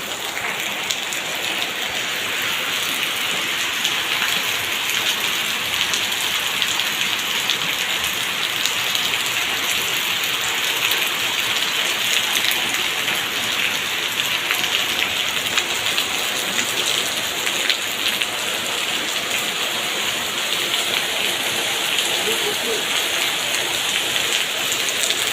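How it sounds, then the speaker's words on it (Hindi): Steady rain falls in the Murree hills, a dense, even hiss of drops on surfaces that carries unchanged for the whole stretch, with no one speaking. "यहाँ पे बहुत प्यारी बारिश हो रही थी।"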